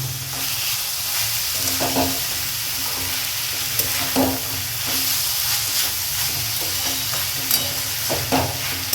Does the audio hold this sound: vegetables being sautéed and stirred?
yes